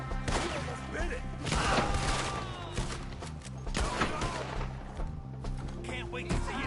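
Gunfire in the Red Dead Redemption 2 video game, with repeated shots cracking in irregular bursts and several overlapping volleys. Characters' voices shout over the shooting.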